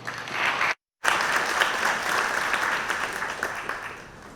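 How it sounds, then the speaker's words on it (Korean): A conference audience claps steadily to welcome a presenter onstage, moderate applause cut by a brief dropout of silence and continuing evenly afterward. "박수로 전하겠습니다"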